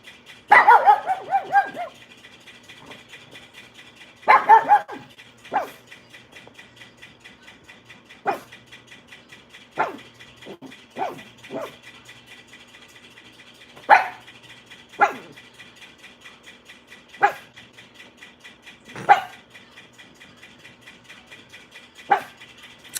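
A puppy barks and whimpers in sharp scattered bursts, some short yips and others longer whining cries, fairly close, spread across a long stretch with quiet gaps between.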